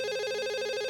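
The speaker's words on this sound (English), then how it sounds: "Oh, there's a phone call." Telephone ringing in a detective video game, a steady electronic trilling ring with a fast pulsing rhythm, loud and alone with no talk.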